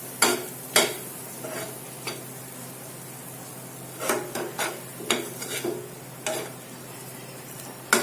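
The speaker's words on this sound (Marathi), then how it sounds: "त्याला छान मिक्स करून घ्या." Peanut amti curry stirred in a pan, a spoon scraping and clinking against the metal in scattered strokes, fairly close and moderately loud over a low steady background hum.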